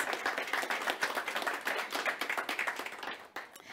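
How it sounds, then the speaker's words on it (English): A corporate partnership conference audience breaks into applause, dense overlapping hand claps filling the room, steady and moderately loud before tapering off near the end. "Let's give them a round of applause"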